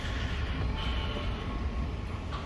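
Dubai metro train running, a steady loud rumble and rattle of the carriage with a faint high whine, continuous throughout with no voices.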